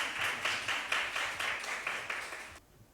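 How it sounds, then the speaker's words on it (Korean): After a student presentation at a results-sharing event, the audience applauds in a pulsing, rhythmic wave of clapping that fills the room and then stops abruptly. "다시 한번 박수 부탁드리겠습니다."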